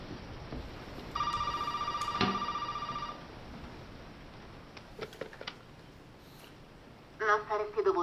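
Telephone ringing in the horror video game Resident Evil 7: a steady electronic ring lasting about two seconds with a sharp click partway through, followed by faint clicks and a brief burst of in-game voice at the end.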